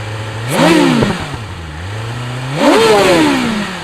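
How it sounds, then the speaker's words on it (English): A 2025 BMW S 1000 RR motorcycle engine idles with a low burble, then revs up sharply twice, each rev climbing and dropping back to idle, close and loud. "since it still has the 69 stock catalytic converters and a dB killer, it still sounds stock. Sounds like a motor."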